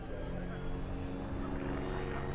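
A propeller aeroplane flies aerobatic manoeuvres at an air display at the Parco Victory Festival, a steady engine drone heard beneath a commentator's ongoing talk.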